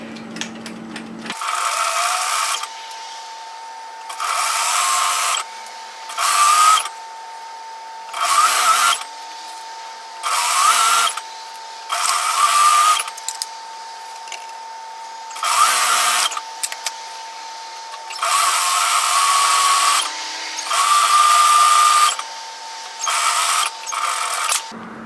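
A sewing machine stitches a dress hem in repeated bursts of fast, buzzing whirring, each a few seconds long, separated by short quiet pauses, close and clear with no talk.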